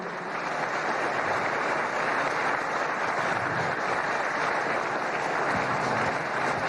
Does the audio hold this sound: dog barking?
no